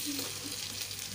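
Green capsicum frying in a pan, a faint steady sizzle with no breaks.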